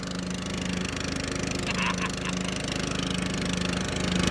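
A lawnmower engine runs nearby with a steady pulsing chug at a mid pitch. A faint voice briefly sounds beneath it.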